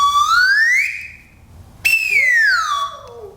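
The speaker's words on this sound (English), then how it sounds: "here's one from the United States called a slide whistle. You've probably heard this sound in a cartoon." Slide whistle played in two sweeps, the first pitch rising and the second falling, clear and fairly loud with a short pause between them and no talk.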